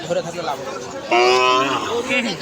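A cow gives a short, loud moo at a busy cattle market in Choubaria, Manda, Naogaon, rising over people talking nearby.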